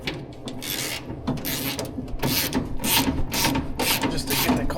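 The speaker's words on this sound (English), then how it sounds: "So let me just give it a couple of cranks just to loosen it." A hand ratchet clicks through several quick cranks to loosen the steering column of a 1960 Chevrolet Impala lowrider, loud and close, with rapid metallic pawl ticks in bursts.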